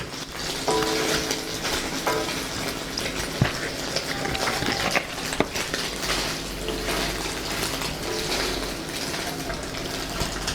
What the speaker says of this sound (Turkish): Kuyruk yağlarımız yavaş yavaş orada kavruluyor.